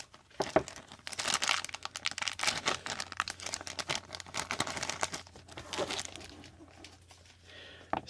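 Crinkling plastic of a surprise bag being cut open for a Beyblade Shelf Space unboxing, with dense crackly rustles and tearing through most of the stretch, close and moderately loud.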